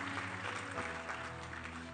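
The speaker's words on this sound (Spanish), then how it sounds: "dale un fuerte aplauso al Rey de Gloria" A church congregation claps during a Spanish-language sermon, a brief burst of steady applause with a sustained musical tone held underneath.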